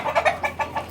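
A fighting rooster, a gamecock kept in a cage for sale, gives quick repeated clucks in an even rhythm, close and moderately loud, with no voices.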